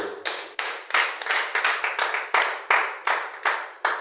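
A church congregation claps in unison in steady, evenly spaced beats, loud and close, with no cheering or voices clearly rising above the rhythm.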